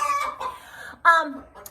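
A hen in a large chicken coop gives soft, drawn-out clucks and murmurs at close range, with a sharper squawk partway through.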